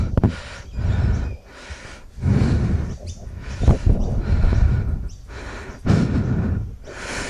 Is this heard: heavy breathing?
yes